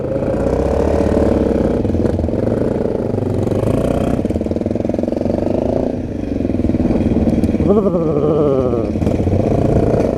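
An off-road motorcycle runs continuously for about ten seconds, its engine loud and close with steady droning, rough clatter and a brief rev change near the end.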